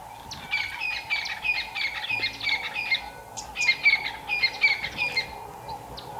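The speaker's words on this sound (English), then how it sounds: "There's francolin, guinea fowl, and all sorts of birds." Francolin and guinea fowl call by the Chobe River, harsh repeated squawking bursts in rhythmic clusters, fairly close, over a low steady background hum.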